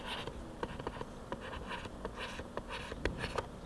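Pen scratching on paper in short strokes and taps, close and continuous against a faint room hum, jotting down numbers.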